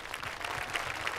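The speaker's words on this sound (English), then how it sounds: "can we give her a round of applause" An audience at a senior awards ceremony claps briefly, a faint, dense patter of applause heard from a distance.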